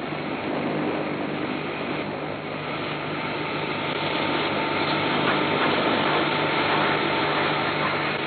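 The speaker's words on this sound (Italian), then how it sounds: "Osservate il disco per levigare. Il suo movimento rotatorio e di andata e ritorno spiana e leviga la lastra." Marble polishing disc machine grinding and smoothing a stone slab with a rotating, back-and-forth motion, a steady loud motor drone with a broad rough hum running continuously throughout.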